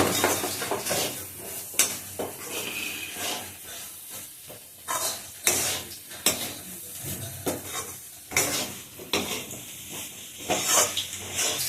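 Grated coconut being stir-fried in a pan for a Bengali mocha (banana flower) dish, with steady sizzling and hiss broken by repeated scraping stirs of a spatula against the pan, close and fairly loud, no talking.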